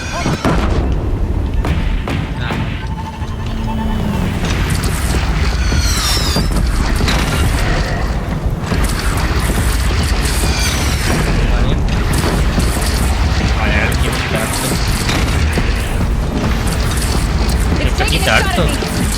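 Heavy cannon fired in the video game Horizon Zero Dawn, repeated deep booms and explosive thuds amid dense, loud battle noise, with a player talking over it.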